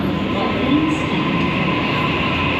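Train at a platform of North Sydney station, a loud continuous rumble and rolling hum of the rail cars with a brief faint squeal, steady and close throughout.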